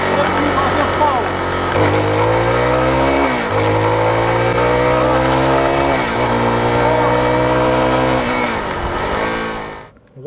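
A 2019 Zontes X310 motorcycle pulls hard in second gear, its engine revving up in rising sweeps with short dips between pulls, loud and close throughout before cutting off at the end.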